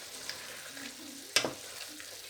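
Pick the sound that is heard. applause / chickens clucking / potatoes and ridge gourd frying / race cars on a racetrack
potatoes and ridge gourd frying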